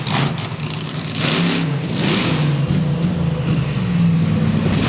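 Raminator, a Hall Brothers Ram monster truck driven by Mark Hall, revs its engine hard at an arena event in Lima, Ohio, a loud continuous roar rising and falling over about five seconds.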